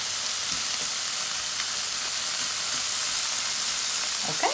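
Shrimp sizzle steadily in a hot frying pan, a dense, even crackling hiss that holds through the whole stretch, with a few faint clinks near the end and no voices.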